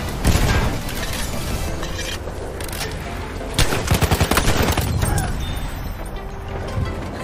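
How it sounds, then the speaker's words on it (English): Machine gun fire in the shooter game Battlefield, with loud rapid bursts of automatic shots, a dense rattling volley midway, and scattered impacts and mechanical clatter in between. "Ein Maschinengewehr!"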